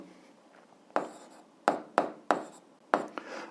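Pen or marker writing out an eighth-grade algebra fraction exercise, heard as five or six sharp, close taps and strokes spaced about half a second apart over a faint background, with no talk.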